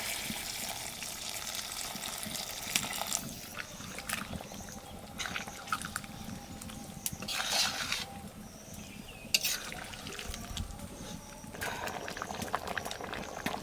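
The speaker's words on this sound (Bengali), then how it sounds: "এবার গরম জল দিয়ে দেবো" Hot water goes into chicken curry that was frying in a pot, producing a soft gurgling, bubbling wash over a low sizzle, fairly quiet and close, with brief clinks and no talking.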